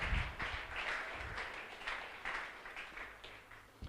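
A church congregation applauds in a steady, diffuse wash of many hands clapping at a moderate distance. The clapping rises and falls slightly over a few seconds, and faint voices come through underneath.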